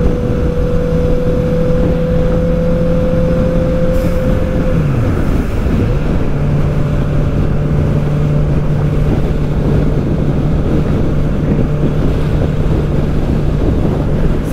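Loud, constant wind roar buffets a Honda CB650R motorcycle at speed on an expressway, with the engine's steady drone underneath briefly dipping in pitch before holding steady again.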